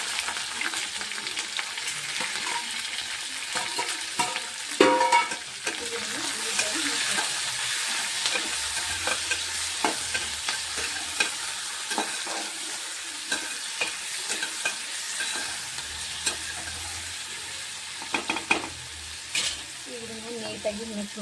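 Chopped onion, tomato and green chilli fry and sizzle steadily in hot oil, with stirring scrapes and clatters of a utensil against the pan throughout, plus a few louder knocks.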